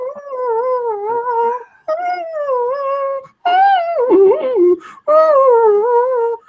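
A man imitates a howling dog, four long wavering howls with brief pauses between them, loud and close, the third breaking into a strained whimpering warble.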